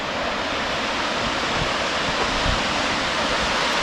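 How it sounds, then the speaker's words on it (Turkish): Gufufoss, a waterfall in east Iceland, roars as a steady, loud broadband rush of falling water, continuous and unbroken with no voices over it. "Gufufos dedikleri şelale bu oluyor."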